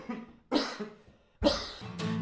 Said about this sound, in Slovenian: kašljam